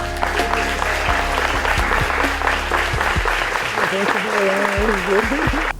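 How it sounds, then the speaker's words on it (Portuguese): Steady audience clapping fills the room at a public-speaking workshop, continuous and fairly close, with a voice talking over it in the second half. "Salva de palmas para mim."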